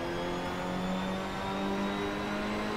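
Steady car engine drone in the Assetto Corsa racing game, played in VR, holding a sustained near tone with slight pitch shifts and no clear rev climbs, continuous for the whole stretch.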